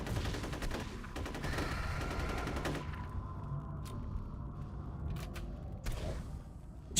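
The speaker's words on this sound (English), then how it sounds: "It's shooting me." Enemy gunfire in the F.E.A.R. video game, a rapid burst of loud automatic shots for about three seconds, followed by a few sharp scattered cracks over a duller background.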